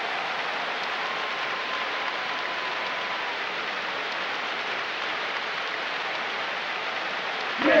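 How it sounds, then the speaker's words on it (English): Steady rain pours down in the NFL 2K3 football game, a dense even hiss of falling water at constant moderate level, uninterrupted, with a short louder burst at the very end. "the ball's getting awfully slippery in this downpour, Dan"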